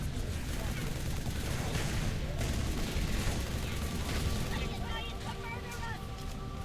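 Sustained assault rifle fire in Halo 3, a dense continuous rattle of automatic shots running under other game noise with no pauses.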